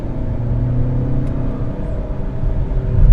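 A Dacia Bigster 1.8 Hybrid SUV engine rumbles steadily up close, its drone swelling a little toward the end as it picks up speed.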